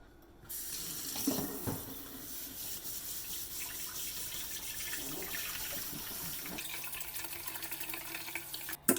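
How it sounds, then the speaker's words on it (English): Cold water from a tap runs steadily into a sink, splashing and swirling as rice is stirred under the stream to rinse off starch, with a few brief clinks. "We're going to be using cold water, and the first rinse is really just kind of a hard rinse"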